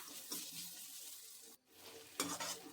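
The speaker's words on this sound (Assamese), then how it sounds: "এইখিনি ধুনীয়াকৈ মই লৰাই ল'ম এবাৰ" Onion, ginger and garlic with a pinch of asafoetida stirred in a pan: faint, close sizzling with soft spatula scrapes, a brief drop to near silence midway, then brighter stirring bursts.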